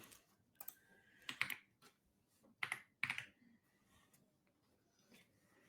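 Someone types on a computer keyboard during a session configuring Prometheus metrics, sparse clusters of quiet key clicks with short pauses between them, close and faint.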